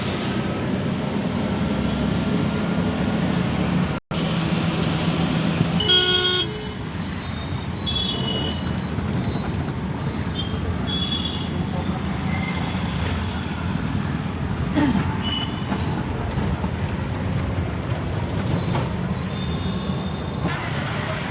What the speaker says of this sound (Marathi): मित्रांनो बसलो आता रिक्षामध्ये